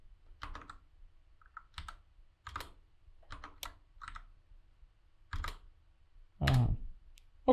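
Someone types code on a computer keyboard: scattered short bursts of key clicks with brief pauses between them, close and fairly quiet, over a faint low background hum and with no speech.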